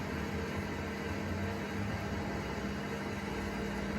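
A carrot harvester rumbles steadily in a field, a continuous broadband mechanical drone with a low hum that holds even and unbroken throughout, with no voices.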